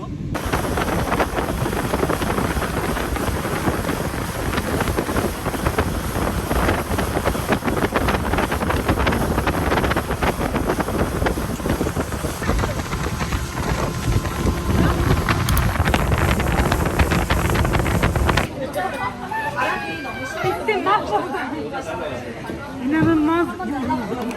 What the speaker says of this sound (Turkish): çok fazla rüzgar oldu